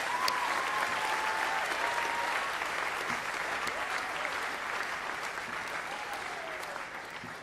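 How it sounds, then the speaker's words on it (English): A school awards audience claps for a group of dancers, a sustained, full round of applause that tapers slightly toward the end, with faint voices mixed in. "We have a huge round of applause for them."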